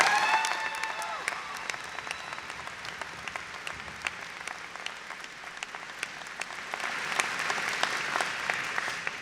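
Audience applause at a student award ceremony, a steady patter of many clapping hands at moderate distance that carries on throughout, with a voice faintly under it.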